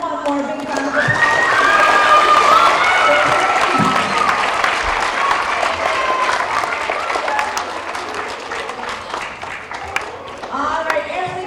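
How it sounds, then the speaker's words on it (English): Sustained applause from a school assembly audience of fourth to sixth graders, loud and dense clapping with some cheering and children's shouts, lasting about ten seconds before fading slightly. "let's give them one more big round of applause"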